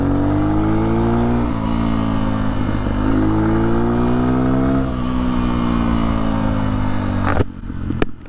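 Honda XR150L motorcycle fitted with a 16 tooth sprocket, accelerating through the gears with a loud, close engine note that rises in pitch, dips at each shift and ends with a few clunks.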